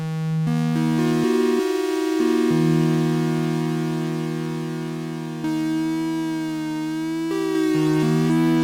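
Sustained tones from a Yamaha CS-50 analog synthesizer with LFO modulating the oscillator, pitch stepping and gliding between notes, bright buzzy harmonics, played alone at a steady loud level.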